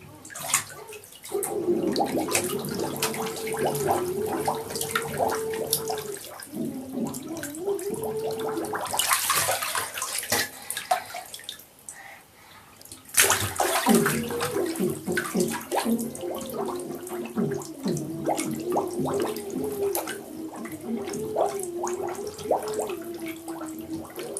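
Child underwater in a bathtub blowing bubbles, a long gurgling, bubbling stream with a muffled hummed tone riding over it, pausing briefly midway before resuming.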